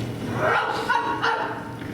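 A dog barks on stage during a live musical performance of an Oz show, giving a few quick yaps in a reverberant theatre with background noise.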